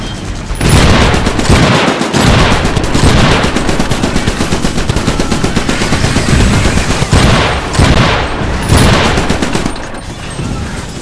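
Continuous heavy gunfire fills the Iron Brigade video game battle, with dense, sustained bursts of shooting and loud rapid fire running almost unbroken from start to finish, no talk over it.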